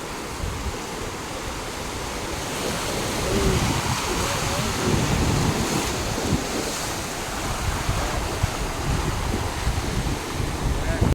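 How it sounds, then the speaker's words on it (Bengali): Sea waves break continuously on the shore at Mousuni Island, a broad, steady roar of surf with gusting wind over the microphone, loud and close. "ওই দেখো কেমন ঢেউ আসছে, দেখো।"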